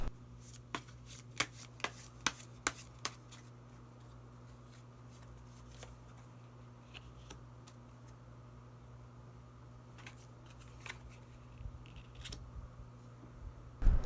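Tarot cards are shuffled and drawn in a quiet room, giving sharp flicking snaps clustered early, then sparse soft riffles and slides against a low steady hum.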